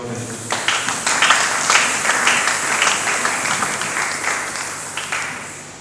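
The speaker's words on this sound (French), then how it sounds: "Est-ce que tu peux acclamer pour la gloire de Dieu?" A church congregation at a Sunday service claps loudly and steadily with sharp overlapping hand claps, fading slightly toward the end.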